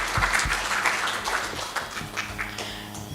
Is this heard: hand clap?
yes